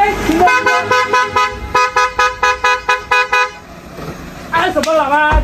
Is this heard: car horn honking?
yes